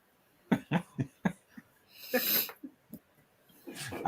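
A series of sharp, close coughs fires in quick succession, followed by a wheezy breath and a few more raspy coughs.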